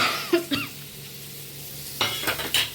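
Fried dried and green chillies dropped into a pan and stirred, giving a few short scrapes and clatters over a soft background sizzle.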